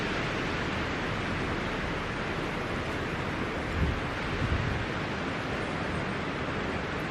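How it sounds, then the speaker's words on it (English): Wind and waves on a sandstone shore lined with firs, a dense steady rush of broadband noise with a couple of soft low thumps of water, no voices. "the waves lapping at the sandstone on the shore."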